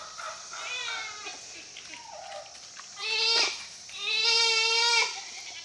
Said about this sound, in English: And noisy goats over here too.